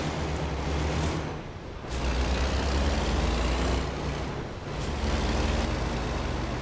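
A Kenworth W900 semi truck in American Truck Simulator idles and rolls to a stop at a traffic light, a steady low diesel rumble with brief hissing air-brake releases, continuous and fairly loud.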